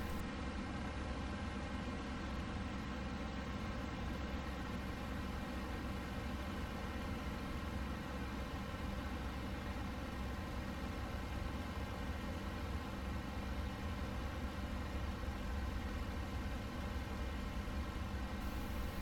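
Aircraft engine and propeller droning steadily in flight in the IL-2 combat flight simulator, a continuous even hum heard quietly and alone.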